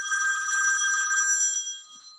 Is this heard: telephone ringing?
yes